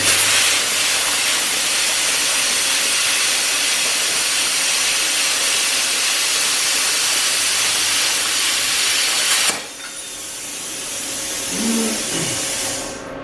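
A Bestarc BTC500DP pilot-arc plasma cutter slicing 1/16 inch stainless steel gives a loud, steady, high hissing rush that cuts off abruptly, leaving a quieter room tone with a faint knock.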